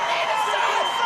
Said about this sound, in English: the crowd is going wild as he's getting back points